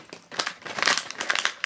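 Plastic blind bag packaging for a Digimon figural bag clip crinkles and rustles in quick, close bursts as it is snipped open and handled.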